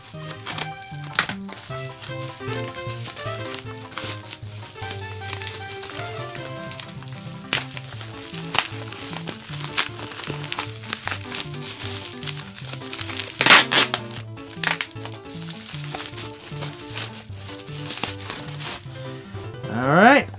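Tightly packed, heavily secured parcel packaging being cut open up close, a dense run of crinkling, crunching and tearing noises with sharp irregular bursts, loudest near the end.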